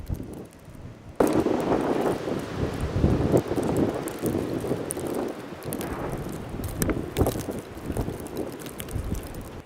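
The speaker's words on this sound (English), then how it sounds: "Winds are still gusting over 30." Strong wind gusts roar across the microphone during an Illinois blizzard with thundersnow, a sudden loud onset followed by continuous buffeting rumble and hiss with fluctuating intensity.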